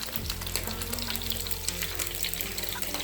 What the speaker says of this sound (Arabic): انا البنات راه كنطيب زيت بلديه بزاف والثومه بزاف